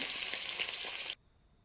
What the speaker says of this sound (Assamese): আৰু এতিয়া মাছখিনি ধুনীয়াকৈ ভাজি ল'ম।